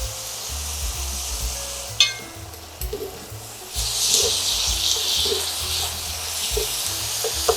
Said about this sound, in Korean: 표고버섯 볶음이 어느 정도 다 됐습니다.